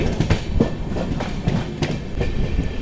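An express train departing Lingampally rolls along the rails, its steady rumble punctuated by regular clickety-clack wheel beats over rail joints, close and continuous with no voices.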